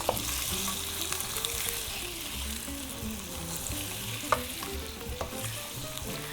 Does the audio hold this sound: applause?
no